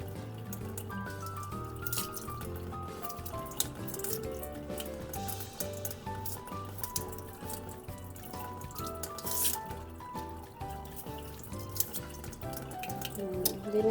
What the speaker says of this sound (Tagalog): Ginagamitan ko ng gripo.